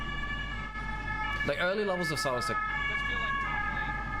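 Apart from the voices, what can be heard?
ambulance siren sound effect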